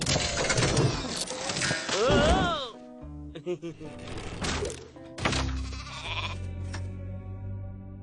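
A sheep bleats in a Hindi-dubbed Transformers Rescue Bots Academy cartoon, a wavering bleat amid busy cartoon effects, thunks and music, loud and close.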